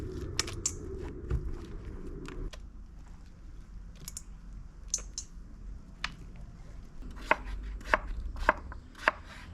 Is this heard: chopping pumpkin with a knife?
yes